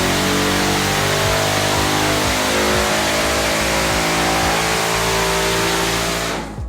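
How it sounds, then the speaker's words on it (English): A custom bobber motorcycle engine roaring on a dyno during a full power run, a loud, dense, sustained howl that holds near full volume for several seconds before cutting off abruptly at the end. "insert video here of this bike dynoing itself"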